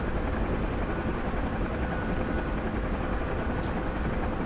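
A Huey helicopter in a combat flight video game gives off a steady, dense rotor and turbine roar that fills the whole clip at an even level, with no talk.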